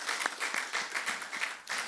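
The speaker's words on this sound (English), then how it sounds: "So give yourselves another round of applause" A church congregation gives a short, fairly quiet round of applause, the claps coming in loose, uneven bursts.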